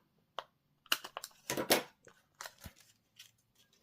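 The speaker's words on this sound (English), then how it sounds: "let's grab some scissors and cut ourselves" Scissors snip through card stock in a quick series of crisp, close cuts with short pauses between, in an otherwise quiet room.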